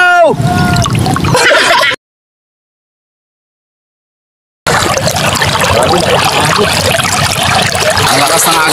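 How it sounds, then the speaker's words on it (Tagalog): A strong river current rushes through an inlet at low tide, a steady broadband wash of flowing water that fills the second half after a silent gap, with a voice speaking over the water at the start. "Ang lakas ng agos"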